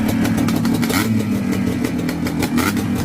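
A CT Racing Honda TRX 309R two-stroke ATV engine runs loud and close, a raspy, buzzing idle and rev with continuous crackling throttle blips and no pause.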